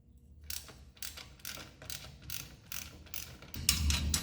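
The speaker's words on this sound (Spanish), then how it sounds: "para la tuerca también podemos utilizar una perica o una llave, pero yo en lo personal prefiero una matraca" Ratchet wrench loosening the brake nut on a motorcycle during brake service, giving repeated bursts of rapid clicking roughly every half second, close and fairly loud, with no talking.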